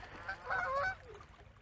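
Geese honk a few times in a short, fairly faint burst outdoors near the waterfront where seagulls also gather, with low background rumble and no speech.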